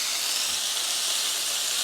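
A rib eye steak sears in a hot iron skillet, a dense, steady hiss and sizzle that holds at even loudness throughout, close up and with no talk.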